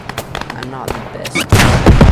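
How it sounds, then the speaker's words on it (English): A grenade explosion in the World War II shooter Squad 44 bursts loudly after scattered gunshots and brief speech, leaving a rumbling blast that fills the final moments. "I thought that was a grenade"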